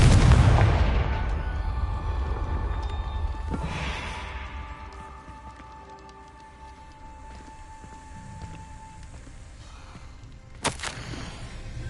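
A Confringo fire spell explodes in the Hogwarts Legacy video game, opening with a loud booming blast that rumbles and decays over several seconds, with a second sharp crack near the end.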